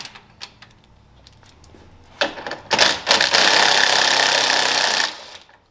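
10mm screws backed out of a Ram truck grille with a powered driver, a rising whir after a few clicks, then a steady loud buzz for about two seconds before it winds down.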